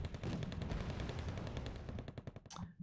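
Rapid automatic gunfire from a Wargame: Red Dragon tournament battle rattles on in dense bursts for a few seconds, quieter in the background, ending in a sharper final crack.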